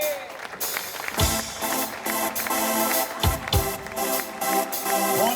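An audience at an outdoor evening concert in Piazza Manzoni, Jesolo, applauds as a singer with his orchestra is welcomed, a broad wash of clapping with cheers and some talk mixed in.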